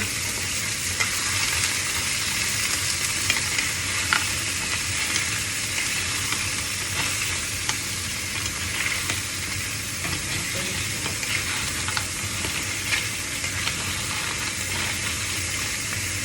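Seashells sizzle and fry steadily in a hot pan, a dense continuous crackle with occasional stirring scrapes, close and even throughout with no talking.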